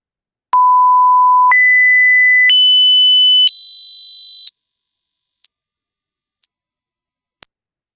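A pure sine tone steps upward in pitch every second through seven even, loud stages, each holding steady before jumping higher, ending abruptly, sounding alone without any voice, used to demonstrate aliasing in a lecture on sampling rates.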